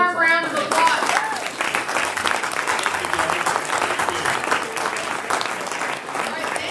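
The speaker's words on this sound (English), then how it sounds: "let's give them a warm round of applause" An audience at a real estate investor meeting breaks into sustained applause, dense, steady clapping that fills the room after a brief spoken cue.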